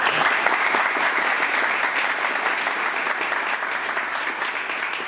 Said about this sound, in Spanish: le pido un fuerte aplauso para él, que nos está acompañando